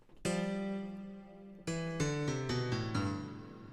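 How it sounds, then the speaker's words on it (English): Punchy electronic M1 house piano chords ring out, first a sustained stab, then a quicker rhythmic run of chords with a touch of reverb. "I've got the M1 house piano"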